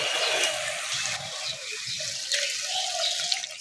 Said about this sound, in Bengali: আলুটাকে ভালো করে কষিয়ে নিয়েছি এবার জল দিয়ে দেবো